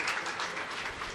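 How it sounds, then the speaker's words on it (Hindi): Audience clapping at a religious discourse gathering in Fazilka, Punjab, a dense, steady patter of many hands held close and even throughout the short stretch. "तालियां तो बजा दो।"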